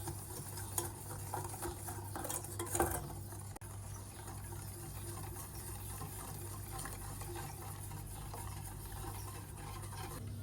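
Condensed milk cream cooks in a pot on a gas stove under slow stirring, a faint, steady low bubbling and soft scraping with a couple of small knocks early on.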